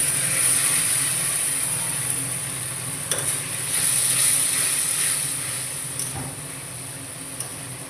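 Water goes into a pan of fried potatoes and dry spice masala for niramish alur dom. A steady, loud hiss of steam and sizzling runs throughout, with a few sharp clicks from stirring.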